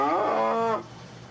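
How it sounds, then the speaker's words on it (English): A recorded cow moo stands in for a tsunami siren test on the Oregon coast, one long, loud, harmonic-rich bellow lasting under a second before cutting to faint background hiss. "instead of the real siren, they use a recording of a cow."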